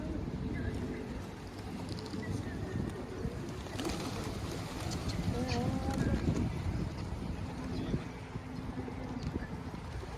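Pigeons cooing softly in a loft where young birds are hand-fed, with a few brief coos over a steady, noisy background of rustling and distant activity.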